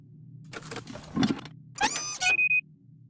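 Gears are fitted into the engine of a town model in The Book of Unwritten Tales 2, making soft mechanical clatter followed by whirring motor bursts and a brief high tone at the end, quiet and without talk.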